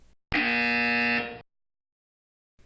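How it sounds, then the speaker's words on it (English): A loud software safety alarm buzzer sounds once for about a second, a harsh, steady electronic tone that cuts off cleanly into silence. "sound an alarm"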